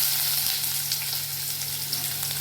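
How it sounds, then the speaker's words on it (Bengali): Onions sizzle in hot oil in a pan while cooking kadipatta chicken, a steady close hiss with a low hum underneath. "আস্তে করে পেঁয়াজগুলো দিয়ে দিই।"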